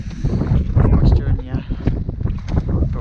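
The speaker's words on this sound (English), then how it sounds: "It's really windy, really wet." Strong gusting wind on a wet, cloud-covered hilltop near a summit in the Lake District buffets the microphone in a loud, continuous roar, with voices briefly heard underneath.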